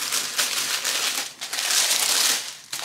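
Tissue paper crinkles and rustles loudly close by while a Saint Laurent clutch is unwrapped, with bursts of crisp crumpling running for a few seconds.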